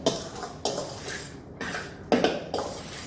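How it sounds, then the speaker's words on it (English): A spoon scrapes and knocks around a bowl while guacamole is stirred with garlic and salt, four or five close, short stirring strokes with brief pauses between, no talking. "Stir that up."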